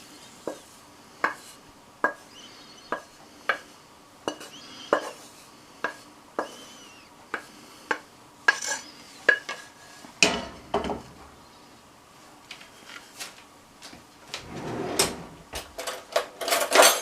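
Serving up a bacon, bean sprout and cabbage stir-fry with pots, pans and cutlery: a steady run of sharp, evenly spaced clinks and taps, then a busier stretch of scraping and clattering utensils close by.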